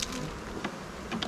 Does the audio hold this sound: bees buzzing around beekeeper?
yes